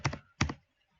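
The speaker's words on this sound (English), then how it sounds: "I hit the tab key on my keyboard to move down to the next level" Computer keyboard keys being struck, two crisp double-clack presses a short gap apart and the start of a third, close-up and isolated against silence.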